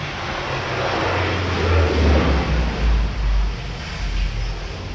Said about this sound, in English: So you just have to wait for a plane to land.